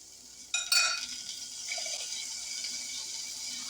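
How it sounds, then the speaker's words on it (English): Vegetables hitting a hot pan with a sudden loud sizzle, followed by steady frying hiss and a brief stirring scrape, close and continuous. "we'll saute this about 5 minutes"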